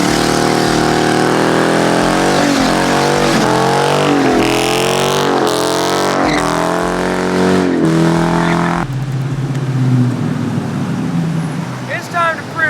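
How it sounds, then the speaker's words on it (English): A Dodge Challenger R/T engine revs hard through rising and falling pitch sweeps in second gear, then breaks into a hissing, roaring tire burnout, loud and close throughout. "I already know she'll do a burnout, but I guess I could prove it to you real quick."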